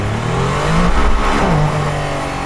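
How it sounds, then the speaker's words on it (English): A Mercedes-AMG One is floored from inside the cabin, its engine wailing with a steep upward sweep in pitch under full throttle, loud and close. "Let's feel the acceleration when I floor it."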